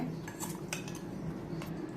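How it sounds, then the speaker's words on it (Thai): Green papaya salad with fermented fish sauce being mixed in a mortar, giving steady clinking and scraping of utensil against the vessel with a few sharper clacks, close and continuous over a low background hum. "คลุกเคล้าให้เข้ากันก่อนนะคะ"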